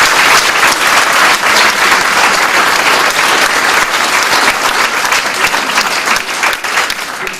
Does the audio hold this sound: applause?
yes